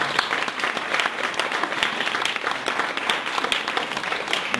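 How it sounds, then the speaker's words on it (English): Sustained, dense audience applause fills a room at the close of a speaker's talk at a nonprofit and public-sector marketing meetup, with many hands clapping steadily and evenly throughout. "let's give our speaker one last round of applause"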